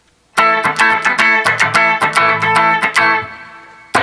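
A distorted electric guitar plays a run of sharp, rhythmic strummed chords, loud and close, then rings out before one last strike.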